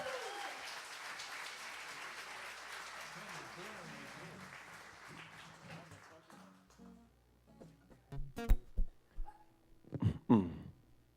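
An audience applauds a musician being introduced, the clapping fairly full at first and thinning out over about six seconds, followed by sparse scattered thumps and quieter sounds.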